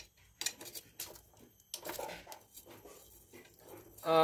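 Metal clinks and clatters from a motorcycle's front sprocket gear being taken off, with scattered sharp taps across a few seconds and a louder rattle at the end.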